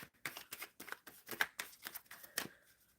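A tarot deck is shuffled by hand in a steady run of soft, close, papery riffles and taps, about a dozen in quick rhythm, with no talking.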